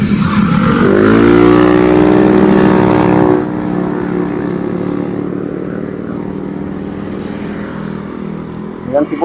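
A Versys 650 motorcycle engine revs loud and close, its pitch rising and then holding before it drops to a lower rumble as the bike pulls away and fades, with brief noises at the end.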